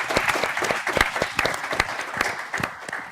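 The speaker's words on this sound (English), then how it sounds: "Maybe we can have a round of applause for the panel." A conference audience applauds a panel on SMEs in Africa, a dense and even round of clapping from a room full of people that goes on through the whole short stretch.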